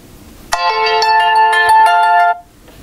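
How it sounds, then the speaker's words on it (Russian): A bright electronic ringtone from a ZTE Blade A520 mobile phone plays a short melodic phrase, loud and close, for about two seconds against quiet background. "Давайте послушаем громкость звоночка, звук, рингтон."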